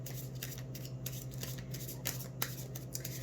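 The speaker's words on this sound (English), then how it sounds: "I'm going to shuffle these," A deck of tarot cards is shuffled by hand, with repeated crisp riffling bursts at an irregular rhythm, close and fairly soft over a low steady hum.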